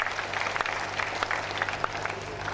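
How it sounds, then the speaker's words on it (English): Applause from a lecture audience at the University of Ilorin, moderate and steady clapping spread across the hall with a low hum beneath, lasting a couple of seconds. "Please, can we give them a round of applause?"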